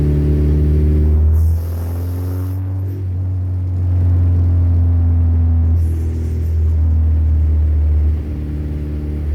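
A 1981 Honda Civic wagon with a swapped K24 engine cruises in gear, its steady loud low drone rising and falling slightly with light throttle changes, heard from inside the car without talk.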